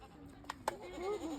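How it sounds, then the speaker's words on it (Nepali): A village goat kept by a family during the Dashain festival in Nepal gives a short, faint bleat near the end, after a couple of soft knocks in a quiet rural setting. "यो चाहिँ मेरो मामलको आमाले पाल्नु भएको बाख्रा"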